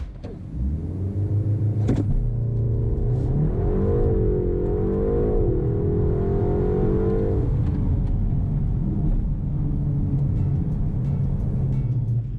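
A 2025 BMW M135 with a dual-clutch gearbox accelerates hard from 0 to 60 mph, the engine note climbing in pitch through several quick gear changes, then settling into a steady rumble as the car cruises on.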